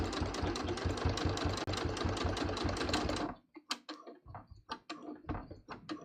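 Close, loud, rapid stitching of a sewing machine sewing in a zipper, a steady motor whir with fast regular needle beats for about three seconds, then it stops and is followed by scattered clicks and light handling knocks.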